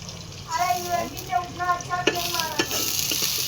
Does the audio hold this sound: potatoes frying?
yes